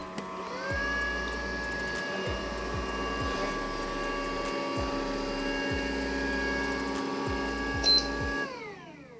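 A Rowenta Serie 95 robot vacuum starts up, its motor rising into a steady whirring hum with layered tonal whines, broken by short mechanical shifts and clicks, fairly close, before winding down at the end.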